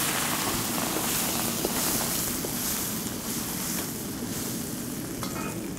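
Duck pieces hitting a hot wok over a low flame, setting off a loud, steady sizzle and crackle of frying fat that stays dense and even from start to finish, close by, with no talking.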